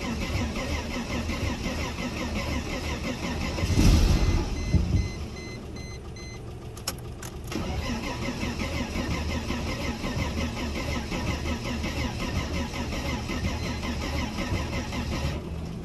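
An abandoned Mercedes car, left unused for seven years, is started. A short rough cranking burst is followed by a steady, close engine drone that runs for the rest of the clip.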